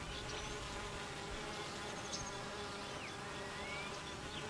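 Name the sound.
honey bee drones buzzing in flight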